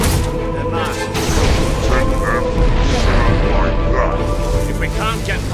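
Mortar fire booms through a loud, continuous battle din at the city gates in the video game Fable 3, with rumbling blasts layered under shouting voices.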